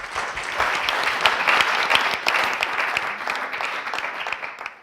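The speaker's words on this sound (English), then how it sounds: "Let's give a round of applause to all." An audience claps for the presenters at the South Africa final pitches of the Leaders in Innovation Fellowships, with steady, dense applause that swells and then slowly tapers over several seconds.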